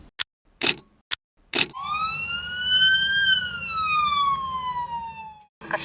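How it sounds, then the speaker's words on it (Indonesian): A siren in the Indonesian film Sabar Ini Ujian: several sharp clicks, then a single loud wailing tone that rises and slowly falls before cutting off. "suara sirene yang terdengar berkali-kali sepanjang film sebagai pertanda kematian tokoh bapak"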